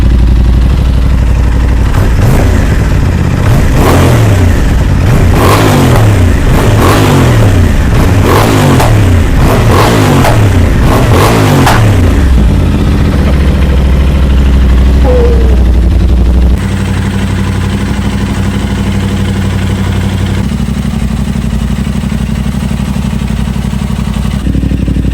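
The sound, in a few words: Aprilia RS660 motorcycle engine started, revving and idling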